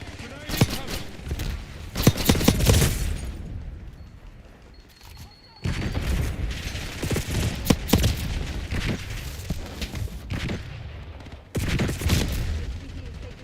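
Call of Duty Black Ops 6 gunfire on the Maelstrom map: dense bursts of automatic shots with booms and explosions, loud and sustained, with a short lull partway through and voices talking over the battle.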